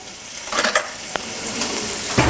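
Bacon fries in a pan with a soft, steady sizzle, broken by a few brief scrapes and clicks of a utensil against the pan. The sound is close and fairly quiet, with no one talking.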